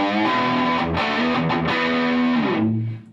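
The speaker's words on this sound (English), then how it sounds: "the last one, which is brown, which is the heaviest distortion." A guitar played through a Boss Katana 100 MK1 amp on its heaviest distortion setting, loud and saturated with sustained chords and brief breaks, heard alone before a lower final chord rings out and fades.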